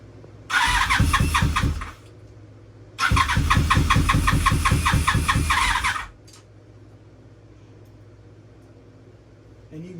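A start-button engine that has sat unused for 24 years cranks in two loud, rhythmic, chugging bursts of about one and a half and three seconds, separated by a pause, then drops to a faint low hum.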